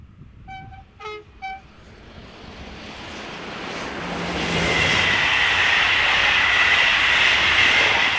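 Locomotive 26048 hauls a passenger train north from Bourges on the Paris–Orléans line, opening with several sharp horn toots, then a rumbling approach that swells into a loud, close, sustained roar as the train passes.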